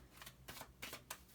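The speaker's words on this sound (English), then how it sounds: "while I start to shuffle the tarot deck" A tarot card deck is shuffled by hand in several quick riffling bursts, soft and close, with short gaps between each pass and no talking over it.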